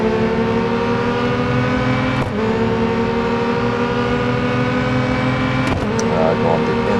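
A Honda S2000 GT race car engine in the Real Racing 3 game drones loud and steady around the Suzuka East circuit, with brief gear-shift dips and a voice talking over it.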